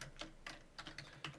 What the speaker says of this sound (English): So I'm typing this in myself.